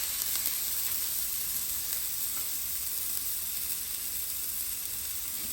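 Smash burgers and onions sizzle steadily on a hot griddle, a loud, continuous, even hiss of frying with no talking.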